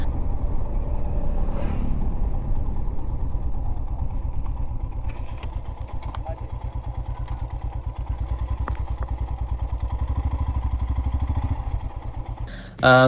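A motorcycle engine idles and putters close by with a steady rumble, some clatter and thumps, then a sharp louder burst at the very end, as the bike is parked near Aagaya Gangai Falls in Kolli Hills.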